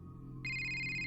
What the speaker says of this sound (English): But then her phone rang.